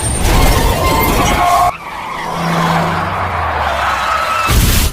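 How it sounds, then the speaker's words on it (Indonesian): A bus skids and crashes in a film scene: a loud, harsh tyre screech and rumble, a quieter lull with a low drone, then another sharp, loud burst of impact. "ketika Mod sedang berjalan ke arah Ning, tiba-tiba saja bus brok-brok yang ditumpangi mereka mengalami kecelakaan"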